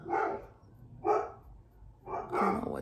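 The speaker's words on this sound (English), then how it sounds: "I don't know what the hell they're barking at" Dogs barking in three separate bursts, mid-distance and fairly loud, with quieter gaps between them.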